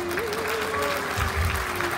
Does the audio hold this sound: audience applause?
yes